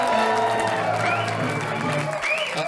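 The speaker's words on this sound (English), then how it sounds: "So please have a big round of applause for Joke Off." Audience applause at a comedy show introducing a Joke Off segment, steady clapping mixed with tonal sounds like music or cheering, loud and continuous throughout.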